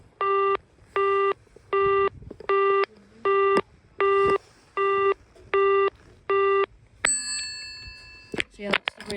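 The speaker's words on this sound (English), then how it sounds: "that's the really old, busy tone" Really old telephone exchange busy tone, heard in a museum: nine evenly spaced bursts of a steady buzzing tone, loud and close, with a brief clatter of handset noise at the end.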